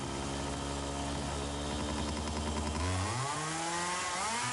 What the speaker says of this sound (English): It sounds like a two-stroke engine.